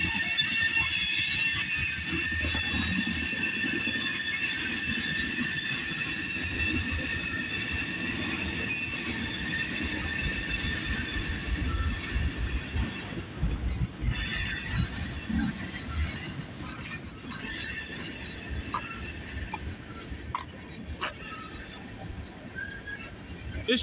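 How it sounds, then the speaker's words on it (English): A CN freight train rolls slowly past Brantford VIA station, its wheels letting out a loud, sustained high-pitched squeal over a steady low rumble of rail cars for the whole stretch, with no one talking. "This train's moving like a turtle"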